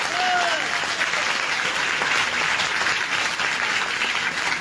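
An audience at a network marketing seminar claps in a continuous, dense burst, loud and close throughout, with a faint voice briefly audible over the clapping.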